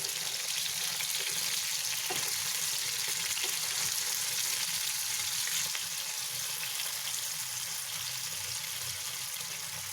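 Mutton kofta fry in a pan over a low flame, giving a steady, soft crackling sizzle that continues evenly throughout with no talking.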